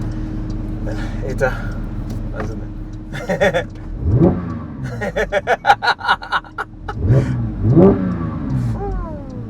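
A manual Porsche GT3 engine revs hard in several rising bursts, loud and close inside the car, with people talking and laughing between and over the revs.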